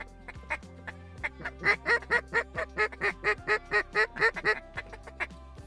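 A drake duck quacks in a flooded wheat field, a run of about a dozen loud, evenly spaced quacks close by, with no talk over them.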